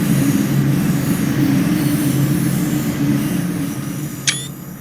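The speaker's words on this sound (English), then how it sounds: "Since when did ICE trains run on the S-Bahn lines?" A German ICE high-speed train rumbles past on an S-Bahn line in a snowy Cologne setting in Train Sim World 2, a steady, fairly loud rolling roar with a brief high squeal near the end and no talking.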